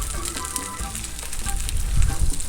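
Carne asada sizzles and fries on a hot Blackstone griddle, a dense, steady crackle up close with faint scraping and stirring. The sizzle swells louder toward the end, and no one speaks.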